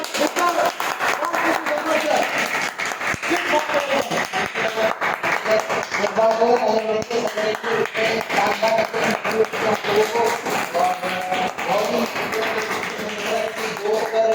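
An audience at a jobs and opportunities event in Petlawad, Jhabua applauds a speaker for about fourteen seconds, with rapid rhythmic claps layered over music and a voice in the background.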